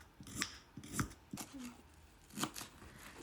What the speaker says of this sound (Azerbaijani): Yer kökünü də bu formada doğrayıram.